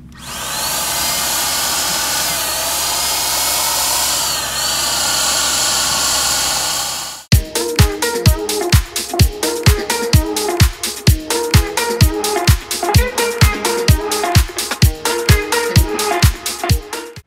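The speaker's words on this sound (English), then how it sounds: "on this unit, it's it's actually blows the paint. It's like if you have your own little personal air compressor in this unit." A Yattich handheld paint sprayer with its own built-in air blower runs in a loud, steady whoosh for several seconds, then cuts to fast, regular rhythmic pulsing of the motor as it sprays paint, close and alone with no voices.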